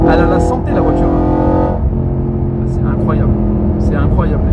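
An Audi RS4 petrol engine roars loudly with a rising rev that drops off midway, then settles into a deep rumble while someone talks over it.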